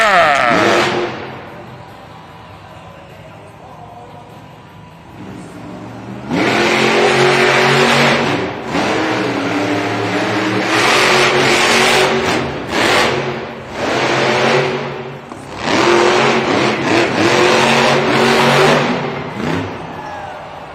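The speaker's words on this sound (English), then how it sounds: "Next up to compete at JCB Racing from Powell's Point, North Carolina, Adam Anderson in Gravedigger." Gravedigger monster truck at a Monster Jam stadium event, its big engine revving and roaring in long loud surges with brief drops between them, heard over crowd noise.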